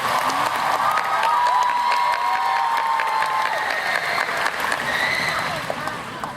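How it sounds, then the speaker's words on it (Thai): A fan festival crowd claps and cheers for the staff, a continuous wash of applause with high-pitched shouts and screams rising over it. "ขอทุกคนให้เสียงปรบมือแล้วก็เสียงเชียร์ให้กับทีมงานทุกคนด้วยครับ"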